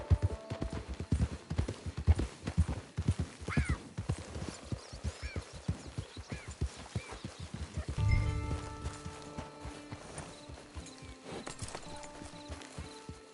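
Horse hooves clip-clop in a steady, close walking rhythm that slows and thins out partway through, then gives way to softer ambient sounds.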